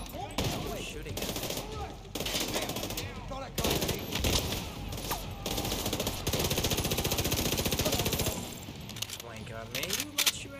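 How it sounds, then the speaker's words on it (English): Rapid automatic gunfire in The Division 2 video game comes in loud, dense bursts of rattling shots that run almost continuously, with brief gaps and scattered clinking. "Who's shooting at me?"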